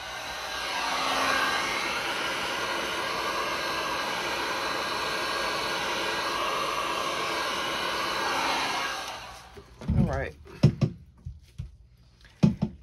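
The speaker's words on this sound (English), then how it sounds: "Let me do the heat gun again since I did that spray of alcohol." A heat gun blows steadily and loudly over a resin chessboard freshly sprayed with alcohol for about nine seconds, then shuts off, followed by a few sharp knocks and clunks.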